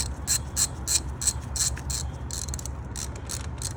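A ratchet tightens the 10 mm terminal nut on the battery of a 2021 Honda Accord Hybrid, giving a quick run of close, evenly spaced clicks that slowly fade, over a low steady hum.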